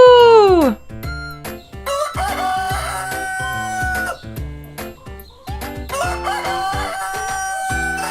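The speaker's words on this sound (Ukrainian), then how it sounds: "Півень кукурікає." A rooster crows once loudly at the start, followed by a bouncy musical backing with plucked and percussive notes that continues to the end.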